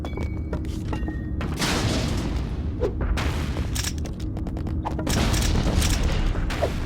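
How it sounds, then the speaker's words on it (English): Dull booming explosions from grenades in the Star Wars Battlefront II video game, several heavy thuds rolling over a constant rumbling battle din, with scattered blasts and mechanical noise throughout. "Sucks I missed one of my grenades."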